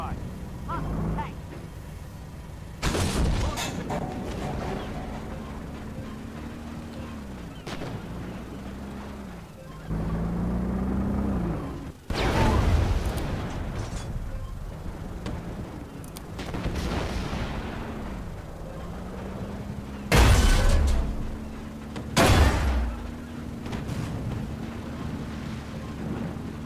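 Heavy artillery shells land in the tank combat game Armored Warfare: several deep booming blasts spaced apart over a steady engine rumble, with two louder explosions close together near the end.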